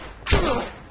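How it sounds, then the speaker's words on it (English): A single gunshot in The Last of Us, a sharp, heavy blast followed by a short decaying tail. "Shot you in the hip."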